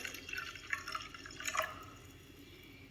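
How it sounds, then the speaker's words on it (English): Tap water pours quietly onto a layer of oil in a jar, making soft, scattered drips and small splashes that thin out toward the end. "first I'm going to put the tap water and see what happens, whether or not it mixes together"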